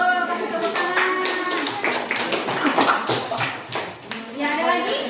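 A classroom of children claps briefly in a teacher's performance-assessment lesson at UIN Syarif Hidayatullah Jakarta, scattered hand claps mixed with kids' voices talking over them, close and moderately loud.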